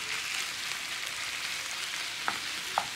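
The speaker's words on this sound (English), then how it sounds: "Fry off our bacon and onion, okay? So frying pan, a little bit of oil" Steady hiss of bacon and onion frying in a little oil in a pan, with a couple of brief clinks near the end.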